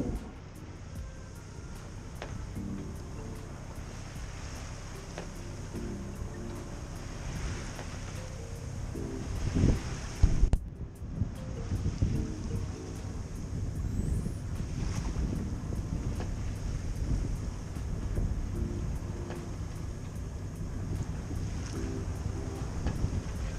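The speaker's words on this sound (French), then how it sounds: "le vent se lève un peu" Wind builds at sea aboard a small boat near Cap Béart on the Mediterranean coast, a steady buffeting roar over the microphone with low engine hum and wash of water, gusting louder midway and staying strong.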